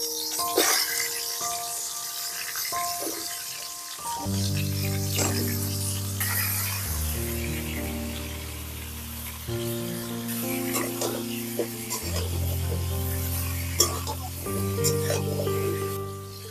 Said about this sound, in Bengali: তেলটা গরম হয়ে গেছে আর এর মধ্যে আমি কচুরমুখিগুলোকে ঢেলে দেবো কচুরমুখি আর ডাটাটাকে ভেজে নেবো